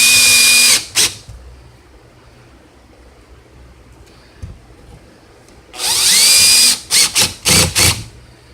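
A power drill set around torque 7 drives 50-pound hollow wall anchors while an HVAC mounting plate is installed: a loud whine, a pause with faint handling, then a long burst followed by several short pulses.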